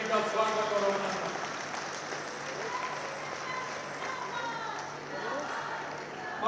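A crowd at a political rally in Jaipur, Rajasthan applauds loudly and continuously to welcome the party's national president, a dense clapping roar with a voice carrying over it.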